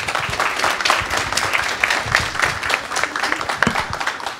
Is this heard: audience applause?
yes